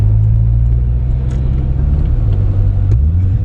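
A Chevrolet Corvette C4 engine rumbles loudly and close from inside the car, a deep steady drone that rises slightly in pitch as it accelerates.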